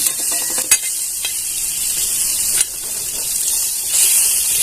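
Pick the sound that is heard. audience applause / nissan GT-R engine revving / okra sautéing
okra sautéing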